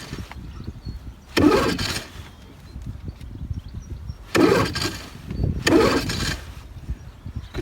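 An old junk outboard boat engine being pull-started three times, each a short loud bursting crank of about half a second to a second, with quieter clattering and rustling between attempts.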